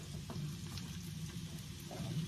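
Plenty of onions frying in a pan at full heat give off a soft, steady sizzle with light crackles, close and quiet, no talking.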